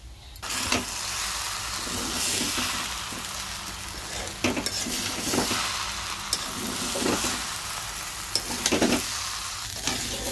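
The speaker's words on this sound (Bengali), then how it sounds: "একটু ভাজা ভাজা করি হালকা" Khichuri ingredients are lightly fried in a pan, giving a steady close sizzle broken by repeated scraping stirs of a spatula, no one speaking.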